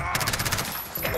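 An MP7 submachine gun firing in Modern Warfare gameplay: a rapid close burst of automatic shots in quick rhythm, filling about a second.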